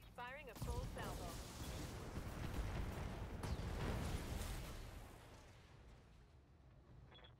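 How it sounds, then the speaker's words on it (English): Mech unloading a full weapon salvo in the Battletech video game: a dense, loud roar of overlapping blasts and explosions sustained for several seconds, then fading, with brief speech near the start. "Firing a full salvo."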